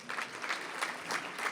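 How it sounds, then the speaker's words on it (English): Brief applause from an audience at a business lunch with mayors, a steady patter of many hands clapping at moderate volume. "clap away, please"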